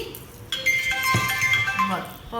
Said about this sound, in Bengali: ফোন আসছে নাকি